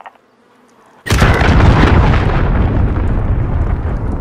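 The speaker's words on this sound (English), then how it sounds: "Enemy cruise missile incoming!" A cruise missile strikes in Call of Duty: Modern Warfare: after a quiet moment, a sudden, loud close explosion erupts, followed by a long, heavy rumbling roar that slowly fades.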